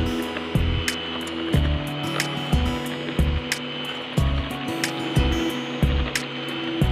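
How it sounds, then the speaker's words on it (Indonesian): An electric hand mixer runs at its lowest speed, beating eggs until foamy: a steady close motor hum broken by regular rhythmic knocks of the beaters against the bowl, with no talking. "Lalu kita akan mixer dengan kecepatan yang paling rendah dulu sampai nanti telurnya benar-benar berbuih."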